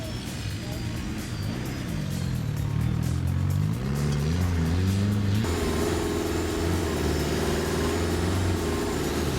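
A Morgan fitted with a Peugeot 2.4 turbo diesel engine drives along with a steady engine drone, its pitch climbing and shifting as it accelerates through gears, heard continuously with wind and road noise.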